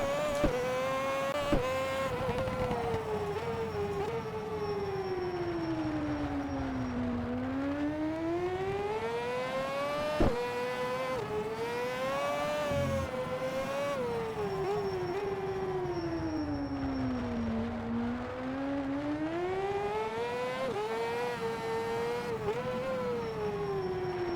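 A modern racing motorcycle on soft tyres in the GP Bikes video game screams around a track, its engine note rising and falling through repeated acceleration and downshifts, loud and continuous with no talking.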